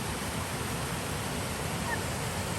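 A waterfall on a rainy trail, a steady, dense roar of rushing water filling the air without pause, fairly loud and close.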